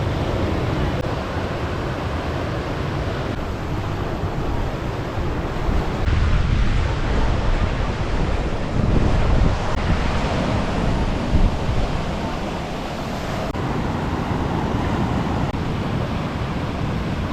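Gentle Caribbean surf at Long Bay, a steady broadband wash of small waves rolling in and receding, heard close with some wind buffeting the microphone and no talking.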